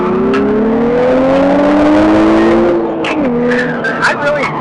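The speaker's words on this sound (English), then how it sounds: "The more and more I push this engine, the more and more I really do love it." Race car engine revving hard and sustained under aggressive driving, with rising and falling pitch, tire squeal and skidding, loud and close throughout.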